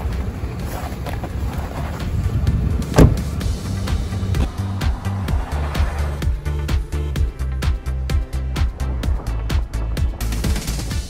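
A car drives along a remote road during a search for the Chang'e-5 return vehicle, giving a loud steady engine and road rumble with wind buffeting and a rapid series of regular thumps or rattles over the second half.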